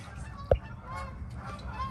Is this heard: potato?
no